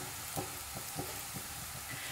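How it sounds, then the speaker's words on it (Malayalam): Onions with spices and curry leaves sauté in a pan for a kurma, giving a steady close sizzle and frying hiss. Faint stirring scrapes recur at a regular pace underneath. "സവാളയൊക്കെ നല്ലപോലെ തന്നെ വഴന്നു വന്നിട്ടുണ്ട്"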